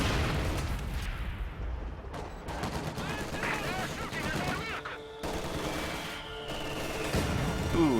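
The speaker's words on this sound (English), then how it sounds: "that mortar's getting some really nice hits off" Mortar shells burst over and over in a Company of Heroes match, dull thuds and crashes mixed with crackling gunfire in a dense, continuous battle din while someone talks over it.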